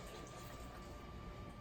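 Water poured into a stand mixer bowl fitted with a paddle attachment, ahead of eggs and oil for gluten-free ravioli dough, a faint, steady splashing trickle lasting about a second and a half.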